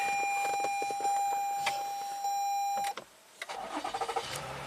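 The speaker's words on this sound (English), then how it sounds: "Cranks right up." A 2017 Toyota Highlander sounds a steady warning chime, then its engine cranks briefly and catches, settling into a close, even idle.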